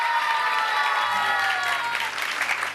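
A studio audience at a Ramzan television show applauds steadily for a couple of seconds, a dense, close wash of clapping with no speech over it.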